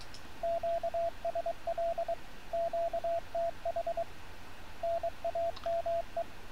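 A CW Morse code transmission sending an and character from an RS BA1 radio, a faint single-pitched tone keyed in crisp dots and dashes in three short bursts separated by pauses, over a soft background hiss.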